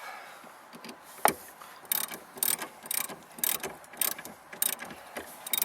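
A ratchet wrench tightens a collar bolt on the rear seat guide pulley of a Honda Ridgeline, giving close, sharp bursts of rapid clicking in a regular rhythm, with no talking.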